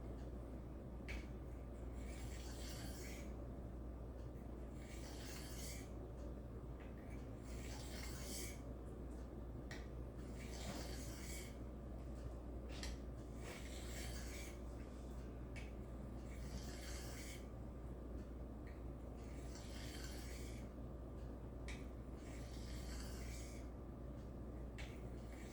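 Vintage straight razor stroked back and forth on genuine Arkansas sharpening stones, a steady rhythmic series of soft rasping swipes at close range over a constant background hum.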